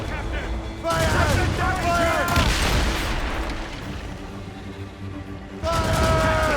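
Cannon fire rumbles in bursts during a naval battle in Assassin's Creed Rogue, deep booms and crackling blasts mixed with shouted voices over a churning sea and battle noise.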